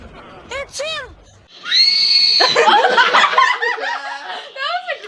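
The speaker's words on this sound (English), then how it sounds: "That was a great scream." A person gives a loud, sustained high-pitched scream lasting about a second, then breaks into shrieking laughter, with brief chuckles from others before and after, close and loud.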